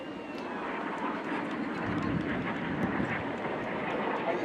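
Red Arrows synchro pair jets at the Blackpool Airshow make a distant, continuous roar that swells slightly over several seconds, faint and spread across open crowd ambience.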